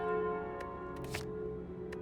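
A bell relic chiming in the card game Slay the Spire, a bright sustained ringing tone with a few short chime accents over steady game music, heard alone without talk.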